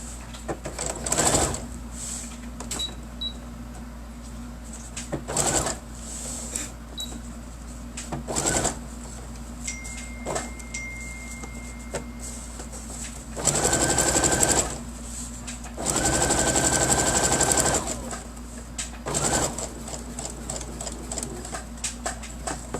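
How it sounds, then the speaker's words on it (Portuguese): A sewing machine stitches all the way around a fabric bookmark in long basting stitches, running in several close bursts of rapid mechanical whirring with short pauses between them, loud against quiet room background. "Vamos passar uma costurinha em toda a volta, tá?"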